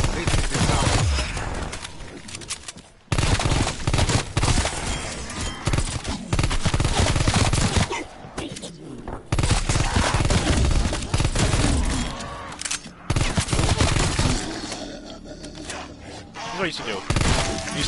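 A sentry turret fires in a zombie survival game: long stretches of rapid, loud automatic gunfire with brief pauses, mixed with other weapons and game noise, and voices talking over the shooting.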